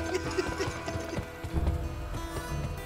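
Hooves of a horse galloping in the Western video game Gun clatter in a steady, fairly loud rhythm over continuous game background sound.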